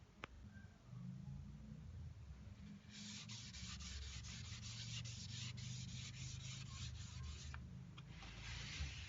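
Fine 600 grit sandpaper rubs steadily over a finished wood surface in close, continuous back-and-forth strokes. The texture is soft and hissing, with no talking.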